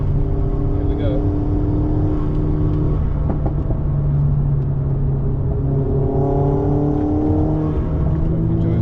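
A Honda Civic FN2 Type R with a K24 engine accelerates hard around Bedford Autodrome, its engine note rising steadily through the gears with loud, continuous harmonics and a steady roar that never lets up, heard from close on board, with no talk over it.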